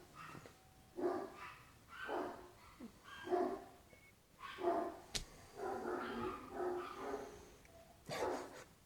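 Dogs bark repeatedly in uneven bursts throughout, fairly faint and somewhat distant, with a couple of short yips among the barks and no talk.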